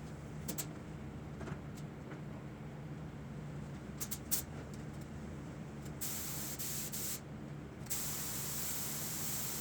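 A spray gun lays down base coat paint on a big-body Ford, a steady close hiss that runs throughout with short bursts and pauses as the trigger is pulled and released.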